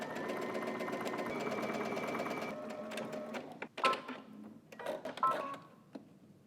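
A sewing machine stitches steadily for a few seconds with a whirring hum, then gives way to clicks and brief mechanical bursts as the sewing stops, heard close up and fairly quiet.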